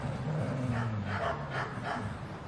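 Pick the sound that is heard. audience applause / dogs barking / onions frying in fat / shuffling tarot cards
dogs barking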